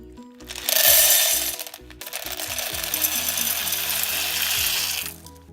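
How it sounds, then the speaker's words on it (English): Home-roasted coffee beans are poured into a tin, making a dense rattling clatter that swells in a loud first burst, briefly dips, then continues as a steady pour for several seconds, close by. "you want to pour our roasted beans into the tin?"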